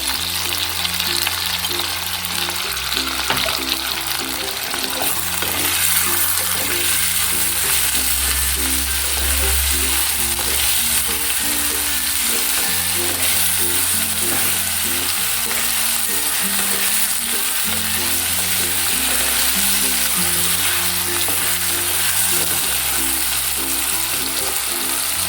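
Brinjal tamarind curry masala sautéing in a pan, a continuous loud sizzle and fry with steady crackle, alone with no talk over about 25 seconds.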